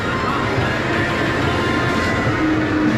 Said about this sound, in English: So I guess this game is based on driving a train.